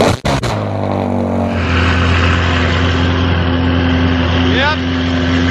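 A straight-piped Ferrari engine starts with a sharp burst, then runs at a steady, loud, droning idle in a garage, with a brief rising whine near the end.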